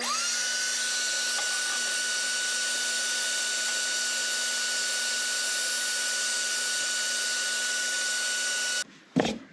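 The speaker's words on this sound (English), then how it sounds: "I'm going to get in here, which is looking pretty bad, and try to vacuum out some of that dust" Vacuum cleaner sucking dust from a Harmon pellet stove control board, a loud steady whine with a high tonal pitch, running nonstop nearby before cutting off abruptly with a clunk.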